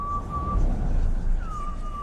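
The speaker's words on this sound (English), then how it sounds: "Gaunter O'Dim's whistle is inside of your head, right at the end there." Gaunter O'Dim's eerie whistle from The Witcher 3, two thin sustained whistled notes, the second sliding downward, faint over a low rumbling background.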